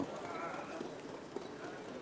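Show-jumping horses canter over the ground during a qualifying round at Caen, their hooves beating a quick, muffled rhythm beneath continuous commentary.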